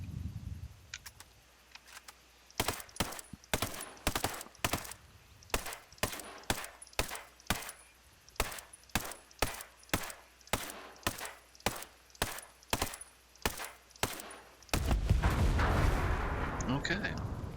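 Assault rifle fire in the video game Ghost Recon Breakpoint, about two dozen sharp single shots in a steady, fairly quick rhythm, fired loud and close, ending with a burst of broadband noise.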